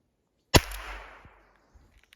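One sharp, loud gunshot crack up close from a 2.5-inch revolver firing a Flobert cartridge through a chronograph outdoors in cold weather, followed by a brief ringing decay and a few faint clicks afterward.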